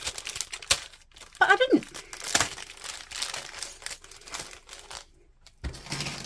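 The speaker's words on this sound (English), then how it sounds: "sorry for crinkling, should have got them all out of the packet before time" Plastic packet of stitch markers crinkling close by in irregular bursts, a sharp rustle standing out early on, with a person speaking briefly over it.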